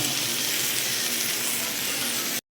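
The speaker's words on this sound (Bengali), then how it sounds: "এদিকে সবজিটা বেশ অনেকটাই ভাজা হয়ে গেছে।" Vegetables for a Bengali home-style vegetarian dish fry in a pan with a loud, steady, continuous sizzle close up, alone without talk, cutting off abruptly at the end.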